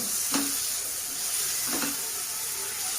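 Spice masala with a pinch of sugar sizzles steadily in a hot pan, a bright continuous hiss broken by two scraping stirs of a spoon, close up and without speech.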